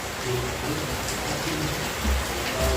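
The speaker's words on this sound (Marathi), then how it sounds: "खूप म्हणजे खूप जोराचा पाऊस" Heavy rain pours down in a dense, constant hiss, with a few low thumps near the end.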